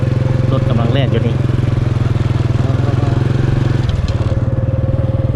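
A vehicle travels along a riverside road in a Laotian village, its engine giving a close, even, pulsing chug throughout while someone talks over it.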